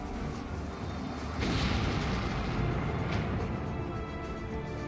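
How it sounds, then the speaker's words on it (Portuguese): Mines packed beneath fortress walls detonate in a siege battle, a deep rolling boom that swells suddenly and lingers as a heavy rumble, with a second blast following shortly after. "A força da explosão fez deter a batalha."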